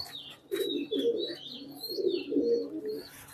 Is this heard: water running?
no